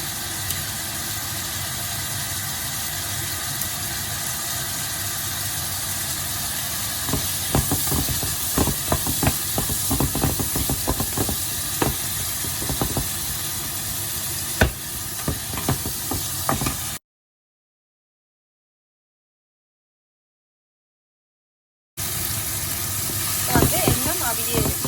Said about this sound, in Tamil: வந்து எண்ணெய் அவியே இருக்குது. தக்காளி நல்லா பொரிஞ்சு அவியணும்.